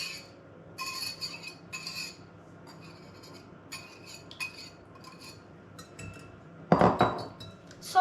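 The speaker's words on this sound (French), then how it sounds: "il faudra mélanger le beurre mou, le sucre et la cassonade et fouetter pour avoir une consistance mousseuse" A whisk scrapes and clinks against a bowl while soft butter, sugar and brown sugar are beaten together for cookie dough, in short irregular bursts with quiet gaps and a louder clatter near the end.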